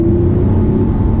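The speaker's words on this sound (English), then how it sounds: "we're going to downshift it to third now" A Lamborghini Aventador's engine drones steadily and loudly from inside the car as it downshifts to third gear, a continuous low rumble with no pause.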